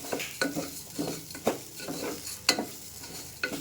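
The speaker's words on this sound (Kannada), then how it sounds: "ಸ್ವಲ್ಪ ಕಸ್ತೂರಿ ಮೆಂತ್ಯನ ಹಾಕ್ಬಿಟ್ಟು ಇಲ್ಲಿ ನಾನು ನೀಟಾಗಿ ಫ್ರೈ ಮಾಡ್ಕೊತಾ ಇದ್ದೀನಿ" Rice fries in a pan with turmeric, garam masala, biryani masala and kasuri methi for palak pulao, a soft sizzle under steady scraping stirs and light utensil clinks against the pan.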